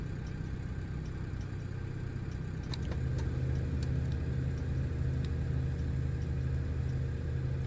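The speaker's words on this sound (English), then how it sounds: "You can hear the generator running outside." An external ground power generator runs beside a Beech Starship in Microsoft Flight Simulator 2024, giving a steady low engine drone with a faint hum, rising slightly in level partway through, with no talking.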